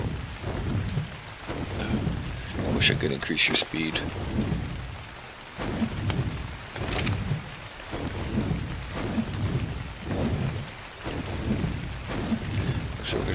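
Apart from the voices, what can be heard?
rain and thunder in the video game Ark Survival Evolved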